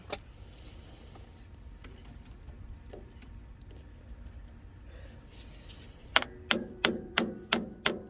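Hammer striking an impact screwdriver to free stuck screws on a 1943 Farmall H tractor: quiet shuffling at first, then six sharp metallic blows in a steady rhythm, loud and close.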